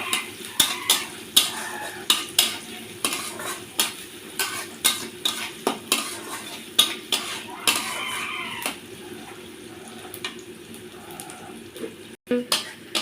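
Chopped onion and garlic go into hot oil with fried black cumin in a pan, giving a steady sizzle with repeated sharp scrapes and clinks of a stirring utensil throughout.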